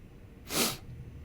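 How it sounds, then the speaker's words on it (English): A single loud, sharp sniff or snort made close into a livestream microphone, rising and falling in under half a second, with faint background noise on either side. "Do not mean to be sniffing into the mic"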